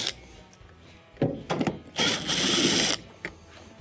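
A screwdriver works loose two T20 Torx screws on a washing machine console, with short ratcheting and scraping bursts and a longer grinding turn, close up and moderately loud.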